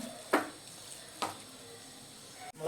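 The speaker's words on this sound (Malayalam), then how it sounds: "രണ്ട് മൂന്ന് മിനിറ്റ് ഒന്ന് എണ്ണയിൽ കിടന്ന് ഒന്ന് വേവിട്ട് മാങ്ങ നല്ല എന്ത് കുഴഞ്ഞ് വരണം" Mango pieces cooking in oil in a pan: a quiet steady sizzle broken by two sharp stirring scrapes and a click near the end, close by and without voices.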